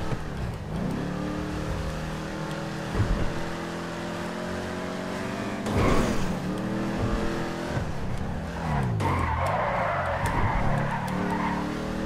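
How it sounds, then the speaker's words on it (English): A car engine in GTA 5 Online revs and drones steadily, pitch rising and falling through gear shifts, with brief skidding bursts; loud and continuous, no talking. "I'll be quiet for a second and let you hear the engine."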